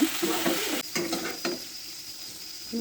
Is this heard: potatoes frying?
yes